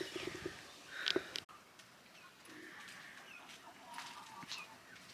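Chickens cluck and squawk briefly as they are placed into killing cones at a backyard butchering table, a few sharp calls up close over faint background noise.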